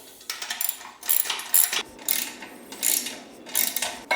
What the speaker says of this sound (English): Tighten those down now.